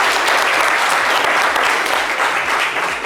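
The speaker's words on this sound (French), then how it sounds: "on va l'applaudir bien fort" An audience in a studio applauding loudly and continuously during a French-language talk show, a dense, close wash of many hands with no break.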